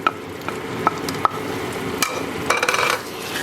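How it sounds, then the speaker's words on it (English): Onions being stirred into risotto in a pan: soft sizzling under a series of spoon taps and scrapes against the pan, ending in a brief cluster of busier stirring. "So just add the onions, stir everything in."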